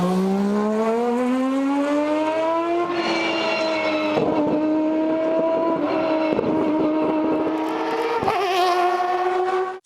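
Mazda Furai race car with a three-rotor rotary engine in a Forza racing game, loud high-pitched rotary wail climbing through the gears with sharp shifts and sustained screaming revs, no voices.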